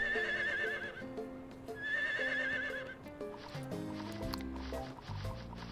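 A horse in the video game Harvest Moon: World of Adventures whinnies twice with a wavering high neigh, then soft hoof clops follow over steady background music.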